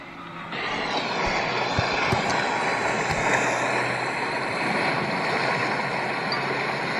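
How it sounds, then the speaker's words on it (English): Steady, loud rushing engine drone with a wash of water noise throughout, like a fast boat powering across the waves. "I absolutely love watching these boat videos with Peter."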